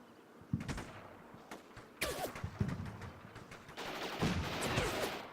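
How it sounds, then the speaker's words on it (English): Machine gun fire in the war game Combat Mission Shock Force 2, several sharp bursts and single cracks spaced across the clip, moderately loud against a low battlefield rumble, with a longer sustained rattle toward the end. "It's a machine gun."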